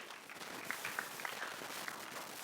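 Faint, steady applause from an audience at a film club screening and discussion, a soft continuous patter of clapping with no voices over it.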